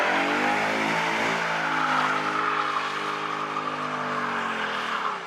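A Ford Mustang holding a burnout, engine roaring steadily at high revs with rising harmonic tone and tire noise, loud and continuous throughout.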